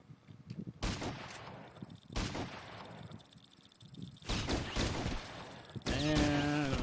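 Video game gunfire crackles in several loud bursts of rapid shots separated by brief lulls, with no talking over it.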